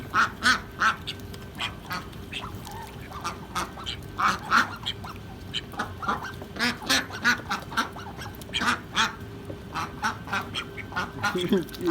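Ducks quack in repeated bursts, some close and loud, amid a scuffle of birds over territory, with a person talking at times under the calls.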